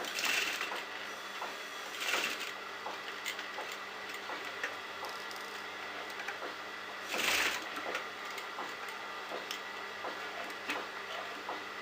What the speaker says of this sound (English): And start sewing this lace.